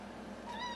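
A single short meow from a cat, close but fairly soft, rising at the end, over a faint background hum.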